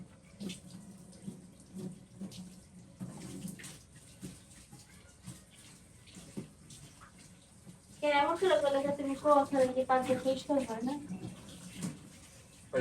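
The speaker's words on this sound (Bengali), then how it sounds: "পাকঘরে ক্লিন করতেছে ধুয়ে মুয়া" Water running in a kitchen during washing up, a faint trickle and splashing that swells into a louder steady gush of tap water partway through, with people talking at home.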